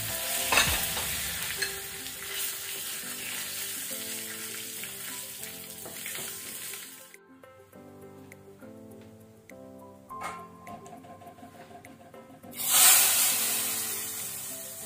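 Curry leaves sizzle loudly in hot tempering oil for ridge gourd sambar while a spoon stirs and scrapes the pan, a close, continuous frying hiss with light ticking clinks over gentle background music.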